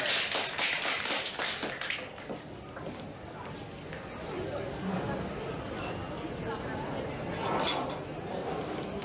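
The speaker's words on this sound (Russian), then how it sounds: "Ваши аплодисменты." A studio audience claps on a Russian comedy sketch show, a continuous patter of many hands lasting the whole stretch, mixed with chatter and a voice speaking over it.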